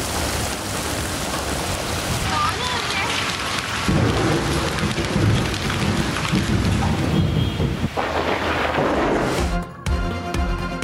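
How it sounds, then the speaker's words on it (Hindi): Heavy rain pours steadily in Islamabad during a thunderstorm, a dense, loud hiss with deep rolling thunder underneath, continuous throughout with no voices. "इस्लामाबाद में गरज चमक के साथ तेज बारिश और यालाबारी।"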